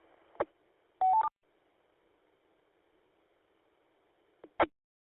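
Telephone keypad dialing tones come through a radio link as a few short, sharp beeps. Long stretches of faint hiss fall between them.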